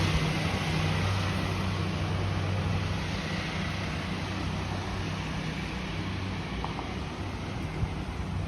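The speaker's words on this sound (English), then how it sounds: "That's a loud bus." A loud city bus passes on a street in Toronto's Scarborough area on a hot summer day, producing a continuous broadband roar with low rumble that stays strong throughout, heard alone without talk.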